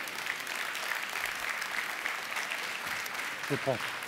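An audience at an innovation awards ceremony applauds as guests are called up, a steady, moderately distant wash of clapping with a brief voice near the end.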